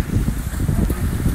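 Wind gusts across a beach boat landing, a low, rough rumble buffeting the microphone with rustling texture, continuous and fairly close.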